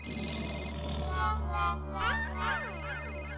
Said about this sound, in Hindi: घंटी बज रही है, फोन क्यों नहीं उठा रहा है?